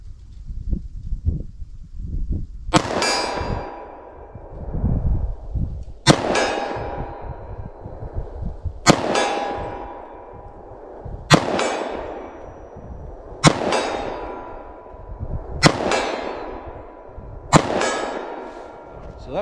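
Seven .45 ACP shots from a subcompact pistol loaded with Speer Gold Dot G2 ammunition, each a loud, sharp crack with a ringing tail, spaced at a steady two-to-three-second rhythm outdoors.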